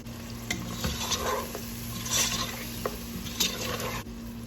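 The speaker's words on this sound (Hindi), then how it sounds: "दो से 3 मिनट के लिए मैं इसे भून लूंगी।" Ground garam masala and salt roast in a pot for Bukhari rice, with a steady close sizzle under repeated scraping and stirring strokes of a spoon against the metal.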